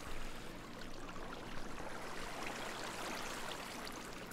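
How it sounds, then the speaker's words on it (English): Flowing water in the Minecraft video game: a soft, continuous rushing stream with a fine trickling texture, faint and steady throughout with no speech, ending with a brief small tap. "Like flowing water, yeah."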